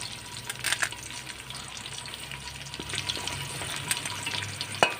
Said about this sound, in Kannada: ಎಣ್ಣೆ ಬಿಸಿಯಾಗುವಾಗ ನಾನು ಹೆಚ್ಚಿಟ್ಕೊಂಡಿರುವಂತಹ ಈರುಳ್ಳಿಯಿಂದ ಮುಕ್ಕಾಲು ಭಾಗದಷ್ಟು ಈರುಳ್ಳಿನ ಹಾಕ್ಕೊಳ್ತಾ ಇದ್ದೇನೆ ಫ್ರೈ ಮಾಡ್ಕೊಳ್ಳಿಕ್ಕೆ